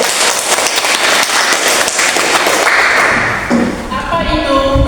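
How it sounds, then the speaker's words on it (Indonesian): A classroom bursts into quick applause, a dense patter of many hands clapping near and loud for about three seconds, then fading as a voice and a bright tone follow. "Kita kasih aplaus dulu."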